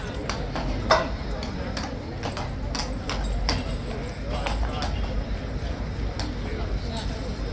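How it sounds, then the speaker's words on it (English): Horse hooves clip-clop irregularly on hard ground in a yard, moderately close, amid steady outdoor background noise. "Taking the horse through into the yard."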